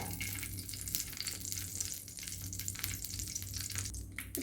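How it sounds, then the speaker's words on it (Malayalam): Cashew nuts roast in a hot pan, giving a dense, even sizzle with light crackle and occasional stirring scrapes, steady and close, and nobody speaks. "ഈ അണ്ടിപ്പരിപ്പ് ആദ്യം ഒന്ന് മൂപ്പിച്ചെടുക്കാം."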